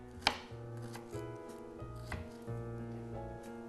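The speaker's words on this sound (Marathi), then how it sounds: "दोन कांदे उभे याचे कट करून घ्यायचे" Onions cut lengthwise with a knife on a board, a few sharp separate chops over a low steady hum in a quiet kitchen.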